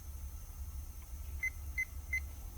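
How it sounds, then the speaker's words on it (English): A multimeter checks continuity on a broken wire, giving three short, clear, evenly spaced beeps over a steady low hum. "you hear my meter beeping"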